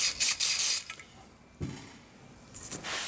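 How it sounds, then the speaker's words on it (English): Sharp hissing bursts of a spray bottle during surface preparation, a couple of quick squirts up front and another later, with faint rubbing of a pad between them. "Spray a little more."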